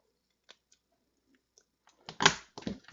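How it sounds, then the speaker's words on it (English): Scissors snipping the side of a paper square for a Stampin' Up! craft, a few faint ticks followed by a brief loud burst of cutting near the end. "I'm going to snip the left side square"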